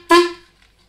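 A squeeze-bulb balloon horn gives one short, loud, nasal honk that quickly fades away, alone and close.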